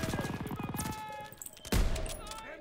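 A Kar 98 rifle in Call of Duty WW2 sounds off amid rapid rhythmic mechanical pulses, then a single sharp, heavy shot rings out and decays.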